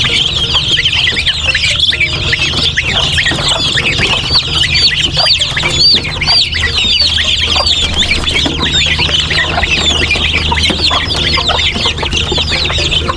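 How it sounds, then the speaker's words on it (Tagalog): Many ducklings crowded in a brooder keep up a dense, continuous chorus of high peeping, close by and steady throughout with no voices. "Sisiyo ng pato."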